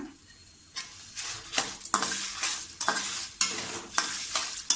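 Raisins sizzling in hot oil in a pan while being stirred for chivda, with a soft frying hiss and regular scraping strokes of a spatula, close and alone.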